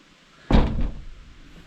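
A single wooden cabin door, newly installed without a handle, thuds shut with a solid knock, followed by a brief rattle that fades away.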